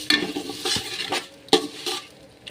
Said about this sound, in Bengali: আর এর ভিতরে আমি মুগের ডালটা দিয়ে দেবো।